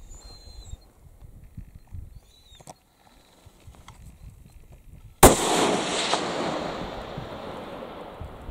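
A single sharp rifle shot cracks out loud and close during a mouflon ram hunt in Croatia, followed by a long rolling echo and outdoor wind after quiet ambient field noise.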